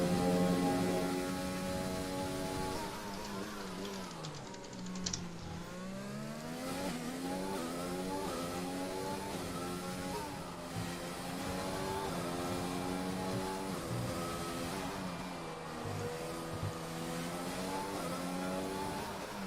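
A race car laps a circuit in a racing video game, its engine climbing and falling through repeated gear changes with sweeping pitch, loud and steady throughout with no one talking over it.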